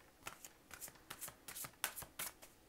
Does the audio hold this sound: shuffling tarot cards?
yes